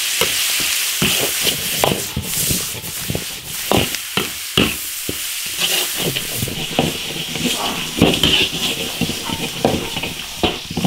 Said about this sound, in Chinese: 蒜苗炒熟就行了。